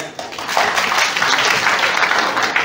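Audience applause at an MBA department function at Annamalai University: a dense, steady wash of many hands clapping that holds at full strength throughout, with no speech over it.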